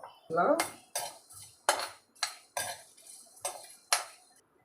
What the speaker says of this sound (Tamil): இதில் போட்டு சேர்த்து வறுத்துக்கணும்